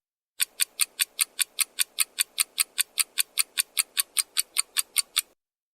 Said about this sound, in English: then click on the timer sound effect